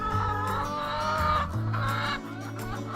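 Free-range chickens on a farm in Uddeholm, Värmland, Sweden, cluck and squawk loudly and close by in overlapping, tuneful calls, several birds at once with no talk.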